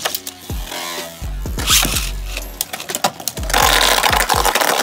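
Beyblade Burst tops crash and grind inside a plastic stadium, with sharp metallic clashes, bouncing ricochets, and a whirring spin that builds to a noisy scrape near the end.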